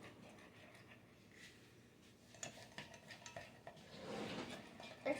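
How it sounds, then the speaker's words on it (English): A spoon stirring a cinnamon mixture in a bowl, quiet at first, then a run of soft clinks and scrapes that grows busier toward the end. "I stir that all up."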